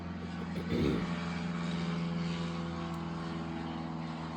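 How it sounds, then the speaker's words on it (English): Airplane passing near an airport, heard through open doors and windows as a steady, fairly faint engine drone that holds throughout with no talk. "every time I sit down to make a video, the planes have to fly by."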